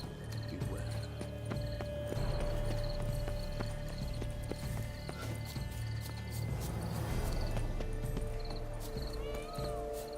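Horse hooves clip-clop steadily in The Witcher 3 video game, a continuous trotting rhythm under a droning game soundtrack, with an occasional whinny.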